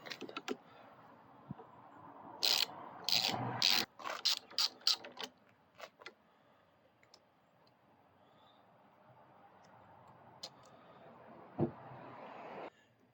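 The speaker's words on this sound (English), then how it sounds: "So I'm just going to start by taking this banjo bolt out." A banjo bolt being removed from a Coleman B200RSV brake lever, with faint clicks followed by a burst of close ratcheting and mechanical clatter, then scattered light taps over quiet room noise.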